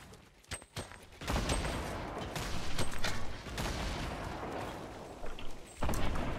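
Repeated explosive weapon fire from a grenade launcher in the Fortnite battle royale game, with a few sharp early shots followed by a dense, loud stretch of blasts and rumble.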